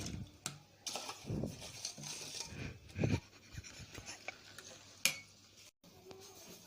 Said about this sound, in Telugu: లీటర్ మిల్క్లోని 100 grams ఆఫ్ జున్ను పౌడర్ వేసుకోవాలి. దాన్ని బాగా మిక్స్ చేసుకోవాలి.